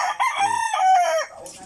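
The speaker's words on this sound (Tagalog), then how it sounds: "Mga manok breeding na mo guys." A breeding rooster among farm chickens lets out a loud, close crow, a long drawn-out call with a short lead-in, followed by quieter clucking and scuffling.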